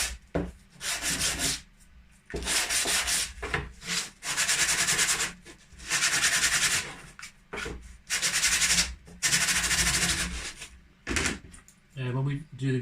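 Sandpaper rubs back and forth along the edges of a small G scale model building part in repeated strokes of a few seconds each, close and scratchy, with short pauses between passes.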